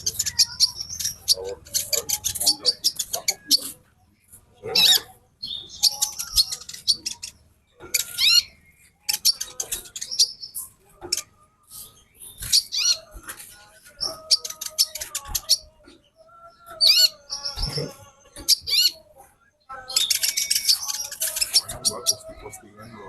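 A female konin hummingbird calls in bursts of thin, rapid high chirps and twitters, close by, repeating across the whole stretch with brief pauses, while people talk in between.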